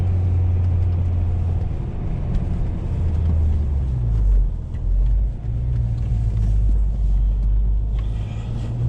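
A B5 Audi A4 drives along a road in a low, continuous rumbling drone heard from inside the cabin, steady throughout with slight swells and no talking.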